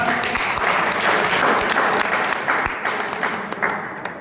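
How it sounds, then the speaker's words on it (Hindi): Dense applause from an audience at a sales presentation, steady and loud throughout with scattered sharper claps near the end, no talking over it. "बजाओ ताली से आपका।"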